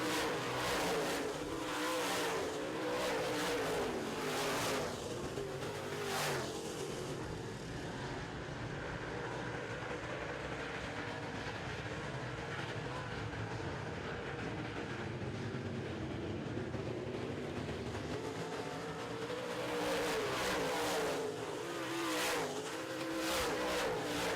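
Modified race cars roar around a racetrack during a feature race, a dense, continuous engine drone with cars sweeping past in waves, loud and close throughout.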